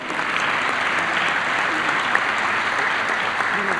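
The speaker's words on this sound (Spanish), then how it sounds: "lo recibamos con un cálido y afectuoso aplauso" A congress audience gives warm, sustained applause to welcome a provincial governor, a dense, even wash of many hands clapping throughout at a steady level.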